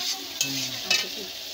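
Egg curry masala of ground cumin, ginger paste, dried red chilli, onion, tomato and ghee sautéing in oil, a steady close sizzle with two brief stirring scrapes, and no speech.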